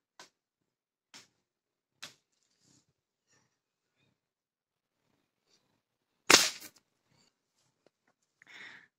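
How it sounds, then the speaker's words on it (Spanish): A single sharp, loud crack of a 5.5 mm air rifle shot at a small grape stands out after a few faint ticks and clicks, followed by a brief soft noise. "Voy a dispararle una pequeña uva otra vez."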